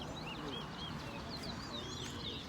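Caged songbirds whistle at a Saturday-morning Guyanese bird whistling meetup outdoors, with several bright rising and falling calls over a constant murmur of crowd and background noise, fairly faint.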